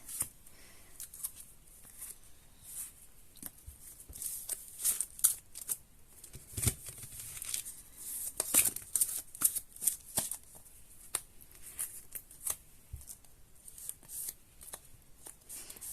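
Tarot cards being shuffled during a reading, a series of crisp riffling and flicking bursts with quiet pauses between them, close to the microphone.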